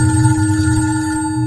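A telephone bell rings continuously and loudly on its own, a steady electronic ring that holds for the whole moment with no voices over it.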